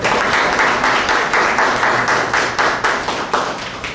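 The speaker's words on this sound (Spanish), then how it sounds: "pido un fuerte aplauso para el doctor Cristian Guzmán Napuri" Audience applause greeting a doctor introduced as a speaker at a formal presentation, a steady wash of many hands clapping at close to medium distance, with distinct individual claps popping out and no talking.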